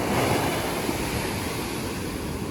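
Strong sea waves break on the beach at San Juan, La Union, in the early morning, a loud, steady, unbroken roar with some wind buffeting the microphone and no voices.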